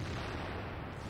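Artillery fire in the tank game World of Tanks, a single heavy, sustained blast that fills the moment loudly with broadband rumble and no talk.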